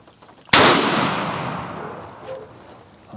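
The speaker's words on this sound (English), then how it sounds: "we're gonna go ahead and shoot this heavy steel number 4 shot and see how this does" A shotgun fires a single heavy steel number 4 shot shell, a sharp loud blast close up that rings out and slowly decays into the open air.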